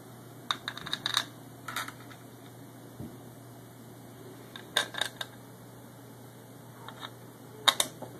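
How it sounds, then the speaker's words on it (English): Screws are pushed through Xbox 360 repair parts, giving faint, sparse metallic clicks and taps in small clusters over a quiet fan-like hum. "Going to put these screws through."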